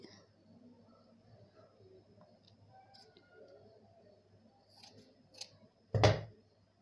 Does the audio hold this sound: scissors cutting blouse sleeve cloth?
yes